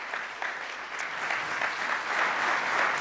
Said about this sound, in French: je vous demande d'applaudir donc Valérie Masson-Delmotte